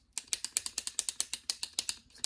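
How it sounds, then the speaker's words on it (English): An MCO Beauty lip lacquer tube in the shade True Pink is clicked up, giving a steady run of about fifteen crisp, close ratcheting clicks in even rhythm, with no voices. "Just clicking it up."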